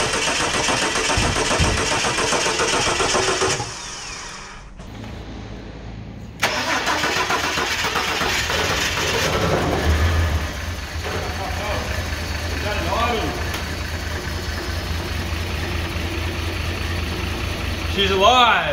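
An old car called the icy blue, just fitted with its earth strap, cranks over, stutters, then catches and settles into a steady idle, loud and close, with a voice cheering over it.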